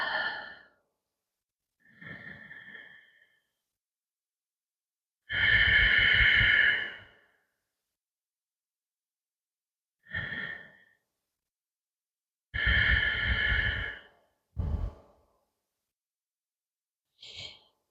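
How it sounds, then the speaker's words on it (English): Slow, deep breaths during a gentle somatic Pilates exercise for the lower back and pelvic floor, with long inhales and sighing exhales separated by silent pauses, close and clear. "Let's breathe 3 deep breaths here."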